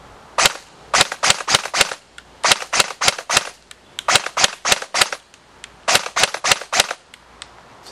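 An airsoft Code-8 PTW fires in short, sharp bursts of rapid snapping shots, close and loud, with brief gaps between strings.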